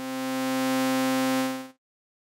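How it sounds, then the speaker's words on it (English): A bright, buzzy sawtooth-wave oscillator on a modular synthesizer holds a steady pitch packed with harmonics, sounding alone for under two seconds before cutting off abruptly into silence. "I'm going to change it to a saw wave."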